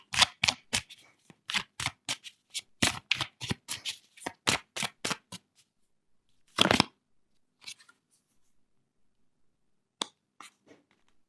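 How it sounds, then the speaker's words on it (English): Tarot cards are shuffled by hand in a run of quick, crisp riffles and snaps close by, a louder flurry follows after a pause, then a few scattered taps and flicks, with no talking. "Let me pull out a couple more cards for you."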